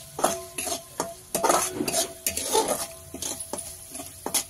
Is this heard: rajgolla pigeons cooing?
no